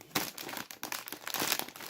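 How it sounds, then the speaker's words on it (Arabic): A plastic snack bag is opened, crinkling loudly and continuously at close range for about two seconds. "ونفتح الكيس الخامس"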